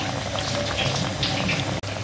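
Oil poured over a bread pakora frying in a pan produces a loud, continuous bubbling sizzle close by, holding steady for about two seconds with one brief dip.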